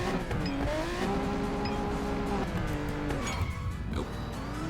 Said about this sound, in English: I've been waiting to drive the Centenario in a mobile racing game